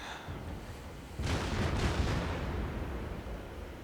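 Naval gunfire from the Kriegsmarine cruiser Nurnberg in World of Warships, a deep booming salvo that hits after a second of quiet and then rolls away into a long, low rumble.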